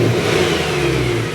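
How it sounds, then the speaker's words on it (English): A stock-exhaust BMW E90 M3 engine revs steadily and loudly up close, a sustained mid-pitched roar with no talking over it. "I want to give you guys a sound check of the stock exhaust."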